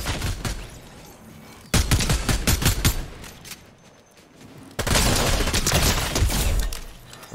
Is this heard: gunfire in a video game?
yes